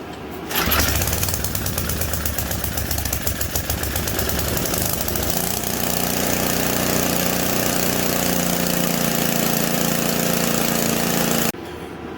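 Simplicity 560 snowblower, freshly tuned up, starts cold with a sharp catch, sputters roughly for a few seconds, then settles into a loud, steady running drone close by before cutting off abruptly near the end.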